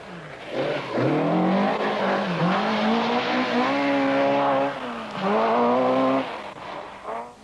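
A rally car driven by Mikkola on the 1979 RAC Rally revs and accelerates close by, its engine note swinging up and down through gear changes in two loud bursts with a short dip between them.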